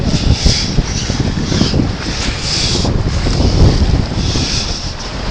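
Sailboat under way in strong wind on open water, steady wind roar buffeting the microphone with water rushing against the hull, loud and continuous with no talk.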